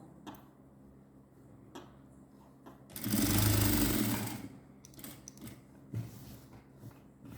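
A sewing machine stitches a folded pant hem in one loud, rapid burst lasting about a second, with quiet handling clicks and fabric rustles before and after.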